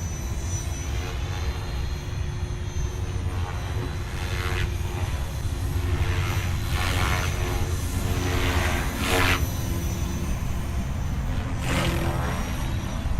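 Align T-Rex 500X RC helicopter on its maiden flight, a steady high-pitched rotor and motor whine with a continuous hum, rising and swelling slightly in passes, heard alone without speech.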